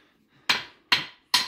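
Three sharp hammer strikes, evenly spaced and close, each ringing briefly before a short pause, with no talking.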